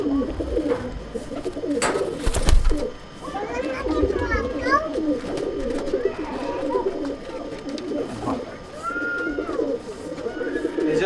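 Paired male pigeons of a Tapan Saha bloodline coo steadily in a loft, a low rolling murmur under the chatter and shouts of children close by.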